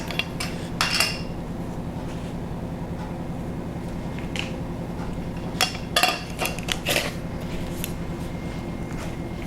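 Zucchini muffin ingredients are stirred in a bowl with a utensil, producing repeated clinks and scrapes against the bowl over a low steady hum. Sharper knocks cluster midway through.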